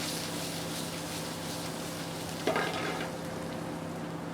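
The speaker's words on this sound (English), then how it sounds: "I'll saute that." Oven-dried tomatoes marinated in extra virgin olive oil and lemon thyme sauté in a pan, with an even low sizzle, a steady hum underneath and one brief scrape of stirring midway.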